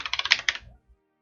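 Quick burst of about eight computer keyboard keystrokes, close and crisp, then silence.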